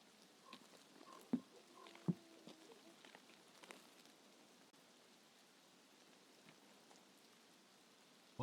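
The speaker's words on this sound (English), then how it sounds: "Of course it started fucking raining." Rain in a video game, a soft steady hiss of falling drops with a few sharper nearby taps and thuds, quiet overall and without speech.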